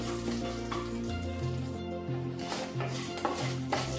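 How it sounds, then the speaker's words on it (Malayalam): Dried red chilies and curry leaves frying in hot oil in a pan while cooking tomato rice, giving a steady, close sizzle with faint stirring clinks throughout. "നമുക്ക് ഇതിലേക്ക് വറ്റൽമുളകും കറിവേപ്പിലയും ഇട്ട് കൊടുക്കാം"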